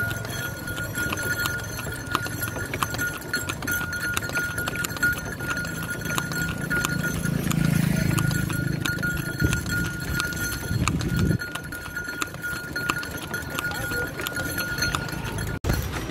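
Hooves of a small horse clip-clop steadily on a busy street near Palani, a continuous rhythmic clatter over dense crowd and traffic noise.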